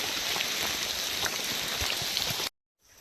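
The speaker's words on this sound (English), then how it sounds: "The rain is a bit relentless" Steady rain falls outdoors on the Appalachian Trail, a dense even hiss of drops on surfaces close around, cutting off abruptly near the end.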